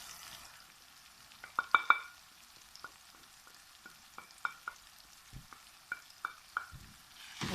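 Tomatoes and spices fry in a pan for chana dal, with a soft, steady sizzle broken by repeated sharp scraping clicks from stirring. The clicks bunch together early, then space out.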